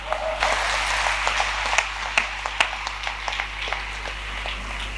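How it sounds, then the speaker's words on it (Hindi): Audience at a Hindi poetry recital applauds in a sustained, crowded wash of clapping with scattered sharper claps, over a steady low hum from the venue's sound system. "आपकी आंखों में थोड़ी लज्जा शेष हो तो एक बार मेरे लिए भी तालियां बजा सकते हैं आप"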